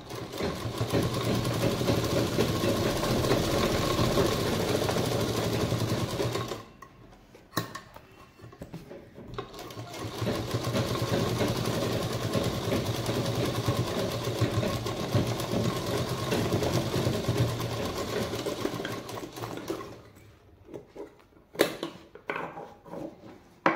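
A sewing machine stitches a purse in steady, close bursts of rapid whirring. The stitching stops briefly partway through, then runs again and ends in short, choppy runs.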